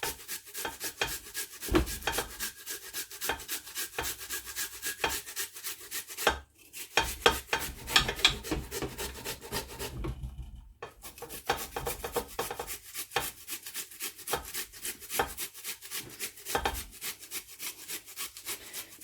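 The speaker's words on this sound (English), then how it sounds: "I grate mine because it's stronger when you grate it. So here I'm grating." Fresh ginger root is rubbed against a grater in steady, rapid rasping strokes, a scratchy rhythmic scrape repeating for a long stretch with two brief pauses, close and fairly quiet with no voices.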